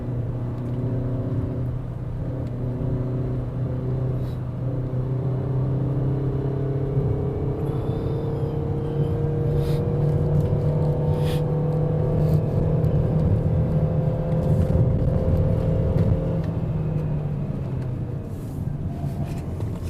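Peugeot 3008 climbing a hill road in manual mode, a steady loud engine drone with tones rising as it pulls through the gear, heard from inside the car.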